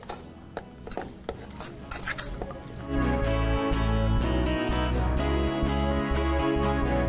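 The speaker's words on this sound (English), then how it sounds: "we're just going to stir it and try and coat just a little bit of the cornstarch and soy sauce on all the meat" Fork stirring raw meat in a bowl to coat it with cornstarch and soy sauce: quick clinks and scrapes of metal against the dish, close up, shifting into a denser, louder stretch of steady stirring.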